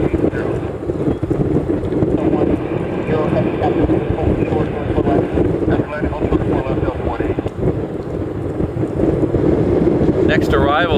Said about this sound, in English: We're having a lot of wind today